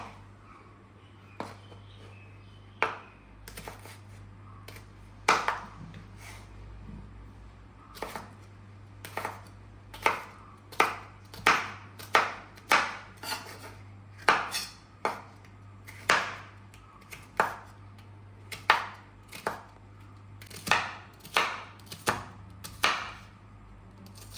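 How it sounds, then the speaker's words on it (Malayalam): Bitter gourd being chopped on a board for aviyal: a long run of sharp, close knife chops, spaced irregularly then quickening into clusters, alone over a quiet kitchen hum. "നമ്മൾ അവിയലിന് അരിയുന്ന പരുവത്തിലാണ് നമ്മൾ ഈ പാവയ്ക്ക അരിഞ്ഞെടുക്കേണ്ടത്"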